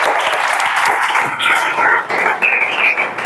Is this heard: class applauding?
yes